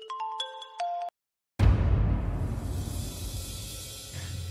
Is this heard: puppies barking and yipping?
no